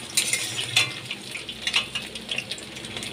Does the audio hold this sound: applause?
no